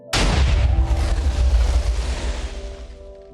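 A cannon fires in a multiplayer server game: one loud, close boom with a sharp attack and a deep rumbling tail that slowly fades over about three seconds.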